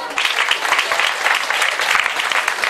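Audience applause at a partnership ceremony, a loud, continuous clatter of many hands that stays even throughout.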